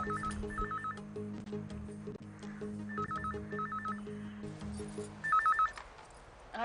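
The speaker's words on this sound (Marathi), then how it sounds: "मला बाहेर फोन वाजतो आहे." A telephone rings indoors in a Marathi TV serial scene, its bright electronic trill repeating in three bursts over a steady low background tone.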